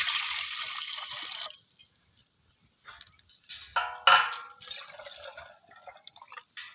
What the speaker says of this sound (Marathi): मी आता ह्याच्यामध्ये एक तांब्या पाणी घालते एक तांब्या पाणी घालणार आहे